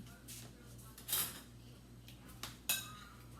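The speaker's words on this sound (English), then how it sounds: "Now I'll stir this up." Seasoned beef pieces are stirred in a bowl, with two or three short clinks of a utensil against the dish over a quiet background hum, no talking.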